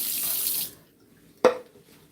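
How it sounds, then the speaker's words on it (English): Tap water runs into a kitchen sink for under a second while a knife is rinsed, then stops; a single short clunk follows in the quiet. "Rinse off my knife."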